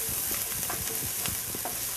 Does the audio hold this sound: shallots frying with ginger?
yes